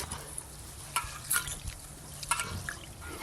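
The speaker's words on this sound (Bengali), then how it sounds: "জল দিয়ে ধুয়ে ভিজিয়ে দেব।" Gobindobhog rice being washed in water, with soft sloshing, trickling and dripping sounds heard close and fairly quiet, a few gentle splashes in a short run.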